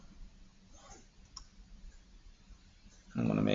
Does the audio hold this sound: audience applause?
no